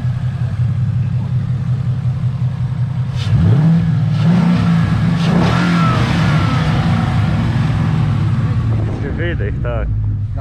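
A Ford Mustang engine idles low, then revs up in several rising exhaust surges with people talking nearby, before settling again.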